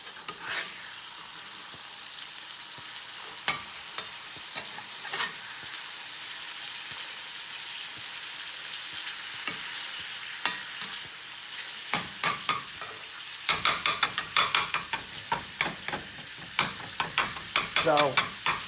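Meat fries in a pan with bacon fat and garlic, giving a constant close sizzle with scattered sharp pops and crackles that grow busier and louder toward the end, with no talk.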